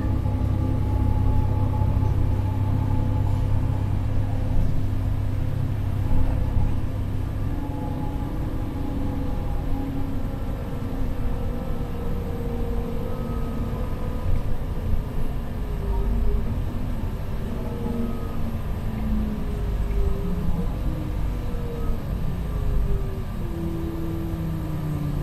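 Moscow city bus on route 909 driving along Ostashkovskaya Street, a steady close engine and road rumble with faint rattles throughout, no talk.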